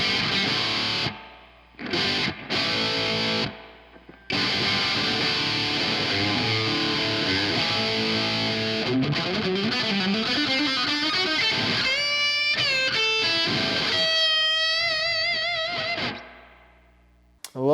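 Distorted electric guitar through a preamp with heavy spring reverb, loud chords and then ringing bent lead notes, each phrase washing into a long, surfy reverb tail before cutting off.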